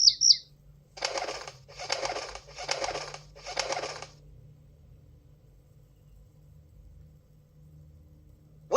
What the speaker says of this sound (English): A sparrow is a small brown bird.